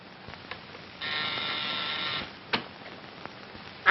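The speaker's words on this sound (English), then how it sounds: "It's enough when I buzz the buzzer." An office buzzer sounds in an old film scene, a steady electric drone held for about a second, followed by a short click amid a faint background hiss.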